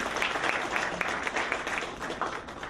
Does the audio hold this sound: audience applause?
yes